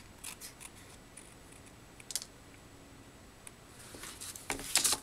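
Scissors snip through paper being trimmed into a rounded shape to match a fridge magnet, a scattering of short, crisp close-up cuts followed by a quicker, louder burst of snipping near the end, with no talking.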